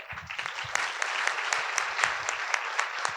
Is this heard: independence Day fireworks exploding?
no